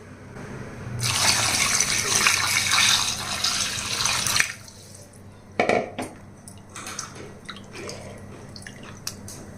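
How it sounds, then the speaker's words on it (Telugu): Running water splashes steadily into a metal vessel for several seconds to wash country chicken pieces, then stops, followed by clinks and handling sounds of the pieces being rinsed. "కొంచెం నీళ్లు పోసి కడిగేస్తే సరిపోతుంది"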